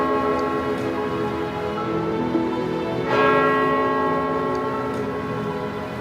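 Church bells of St Paul's Cathedral, London, ring out with rich, overlapping resonant tones that hum and sustain, a fresh strike swelling the sound midway.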